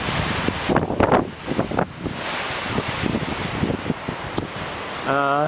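Strong wind blows outdoors near a mountain pass, roaring and buffeting the microphone in uneven gusts with a steady rumble underneath.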